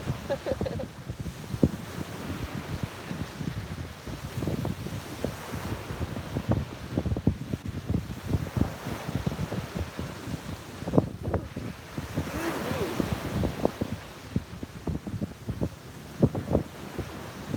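Ocean surf rolls onto a beach at sunrise with steady wind buffeting the microphone, a continuous, fairly loud wash of breaking waves with no voices.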